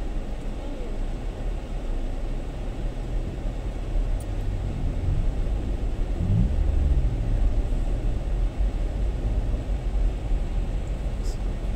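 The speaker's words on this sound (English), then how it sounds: "Traffic here, I don't know if it's a wedding or a funeral." Road traffic passes along a village road on the east coast of Guyana, a steady low rumble of vehicles with a slightly louder pass midway, continuous throughout.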